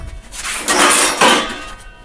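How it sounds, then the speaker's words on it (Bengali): A bowl taken out of a kitchen cupboard: close, fairly loud rummaging with a couple of clattering knocks and scrapes of dishware over about two seconds, no talking. "এখান থেকে একটা বাটি নিলাম"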